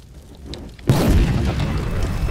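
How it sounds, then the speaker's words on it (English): A sudden loud boom from an explosion effect hits about a second in and trails into a sustained, roaring rumble, with a brief voice heard faintly before the blast. "Now I have a cool explosion effect behind me."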